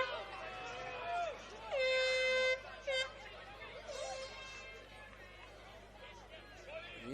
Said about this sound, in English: The air horns blaring, trying to put off the Bulls' defensive unit.